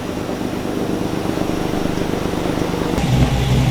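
A Camaro engine strapped to a dyno making a naturally aspirated pull with no nitrous, a loud, steady, dense roar throughout that swells slightly louder near the end, with no voices.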